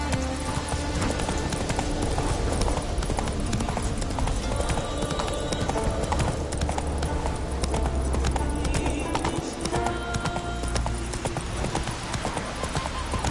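Horse hooves clip-clopping at a steady pace in The Witcher 3 on PS5, a dense, loud, continuous rhythm of hoofbeats with harness jingle and low ambient game sound throughout.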